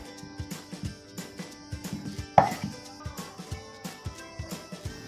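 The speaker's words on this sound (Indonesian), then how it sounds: "Iris-iris bawang merah dan bawang putih, lalu sisihkan." Knife slicing shallots and garlic on a cutting board: a steady series of crisp, close chops in an even rhythm, with one louder knock midway and light clatter between strokes.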